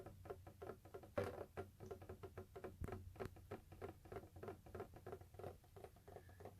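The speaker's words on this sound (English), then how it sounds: "You'll hear the drips." Water drips inside a home water purification system, with quick irregular tapping drops, faint and close, in a steady pattering run.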